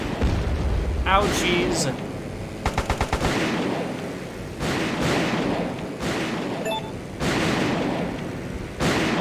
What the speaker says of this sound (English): Great, we have angered the artillery pieces again!